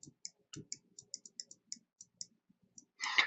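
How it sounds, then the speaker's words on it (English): Prusa MK2S 3D printer end stop clicking in a rapid irregular series of sharp, close ticks, ending with a short burst of louder mechanical noise. "heard the end stop clicking it"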